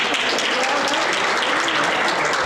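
Audience applause at the 2021 Crimson Creative Awards ceremony, a steady, dense patter of many hands clapping that fills the whole moment, with some talk mixed underneath.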